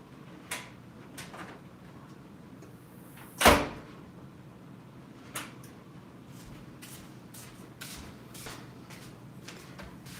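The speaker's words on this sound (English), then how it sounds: "I need to let Pumpkin out again" A house door is opened to let a dog out into the snow. One loud knock or clunk stands out, with a few softer taps and creaks around it in a quiet room.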